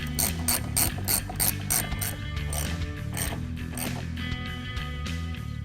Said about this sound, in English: Reinstall the two outer bolts underneath the covers.